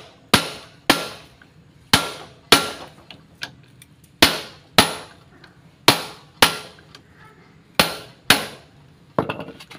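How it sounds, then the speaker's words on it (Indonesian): Sharp metallic clanks ring out roughly a dozen times in an uneven rhythm, each strike decaying quickly and sounding close and loud, as a ring spanner works the clutch housing bolts loose on a motorcycle crankcase. No one speaks. "Langsung saja kita hajar pakai kunci mahkota."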